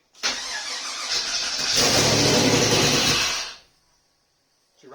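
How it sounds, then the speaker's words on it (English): A Volvo 240GLE with a turbo LS2 V8 swap cranks and fires on brake cleaner, roaring loudly for about three seconds before cutting out abruptly into silence. "The engine starts on brake cleaner, which is not amazing"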